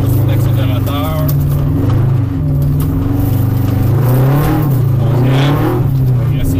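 A rally car engine revs and pulls hard at close range, its pitch sweeping up and down through the gears while a co-driver's voice talks over it.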